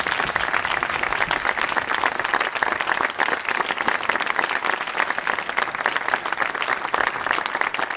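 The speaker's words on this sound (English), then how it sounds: "Let's give a round of applause to Jesus using Chuck." Audience applause at a family reunion gospel concert, a large crowd clapping loudly and continuously for eight seconds, dense and even with a few louder individual claps.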